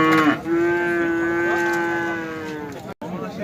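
A cow or calf at a livestock market gives one long, steady moo that lasts most of the moment, close and clear over faint background market noise.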